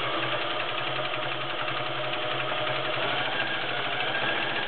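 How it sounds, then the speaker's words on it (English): A vintage Viking 2841 Turissa convertible sewing machine running stitches, with a steady rapid mechanical whir and rhythmic knocking, close and continuous throughout. "Run through a few stitches for you."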